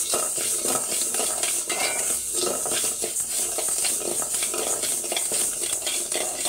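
Rice dry-roasts in a pan while a spoon stirs and scrapes it in a steady rhythm, close and fairly quiet, with a faint sizzling hiss underneath and no talking.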